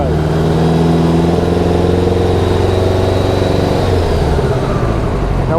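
A 1986 Honda Goldwing GL1200 engine cranks over, a loud, close mechanical drone with a steady pulsing rhythm that holds for several seconds before the tone drops and shifts near the end.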